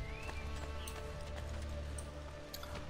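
Steady clip-clop of horse hooves at a trotting pace in Assassin's Creed Brotherhood over a constant game-like background hum, fairly close and even.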